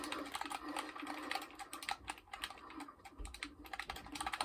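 Keys clatter in quick, uneven bursts on a computer keyboard during a Fortnite session, close and fairly quiet, with short pauses between flurries and no talking.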